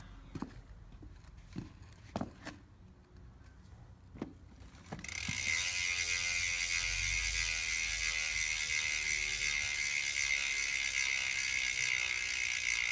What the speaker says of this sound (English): They do have the upgraded ratchet to the 54, I believe. 54, it's the highest one. So let me have you hear that.